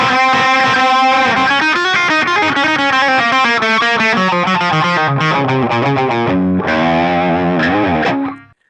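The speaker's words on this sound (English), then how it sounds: "So you're just on distortion, there's no Argo fuzz or anything like that, it's just kind of standard distortion." An electric guitar played through plain distortion with no fuzz rings out loud and sustained, moving through chords and melodic lines before the final notes cut off.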